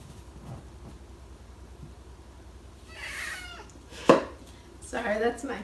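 A pet cat meows in a home kitchen during baking, wanting to go outside; a couple of short, mid-loud cries come toward the end over quiet room tone, with one sharp knock between them.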